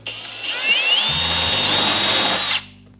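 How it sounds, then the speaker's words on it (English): A power drill fitted with a spot weld drill bit bites into the steel body of a crashed Toyota 86, a loud close whine that rises in pitch as it cuts, then stops abruptly. "I'm just going to try straight with the spot weld drill bit."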